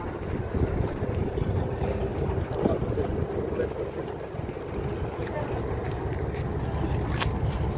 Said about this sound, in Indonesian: kapal mulai sandar untuk keamanan seluruh penumpang